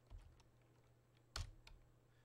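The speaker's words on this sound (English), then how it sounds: "And I'm just typing. I just typed F-E-D." Sparse keystrokes on a computer keyboard as note letters are typed into music notation software, a few soft clicks then one sharper, louder press, close and quiet with no talk.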